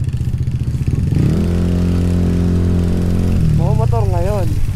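A Yamaha Aerox V2 scooter engine drones steadily under the rider's nearby talk, its pitch rising and holding as it accelerates, then easing back down.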